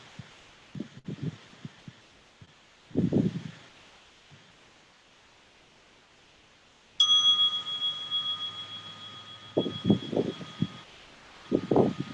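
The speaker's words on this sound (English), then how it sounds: "So, let me get my bell here." A meditation bell is struck once and rings with a clear, sustained tone that fades slowly over several seconds, heard near and alone in a quiet room between soft rustles and handling sounds.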